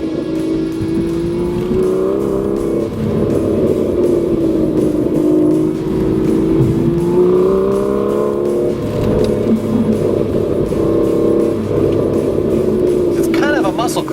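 A 2013 Aston Martin V12 Vantage with a manual gearbox drives on canyon roads, its V12 droning and rising through revs with downshift blips, loud and close from inside the car, while someone talks over it.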